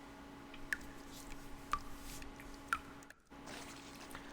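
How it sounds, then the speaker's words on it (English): Water drips in a motel room in the video game Reverse 1999: three clear, evenly spaced drops about a second apart land over a steady low hum and faint background ambience, with a brief dropout near the end. "Sounds like dripping water."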